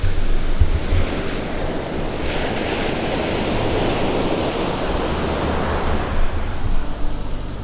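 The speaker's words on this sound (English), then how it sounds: "Look at those waves." Atlantic waves break on the Portuguese coast in a continuous loud surf roar, swelling and easing, with gusts of wind buffeting the microphone.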